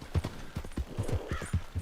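Horse hooves clip-clop at a steady trotting rhythm in Red Dead Redemption 2, about eight distinct hoof strikes, moderately loud and close, with no talk over them.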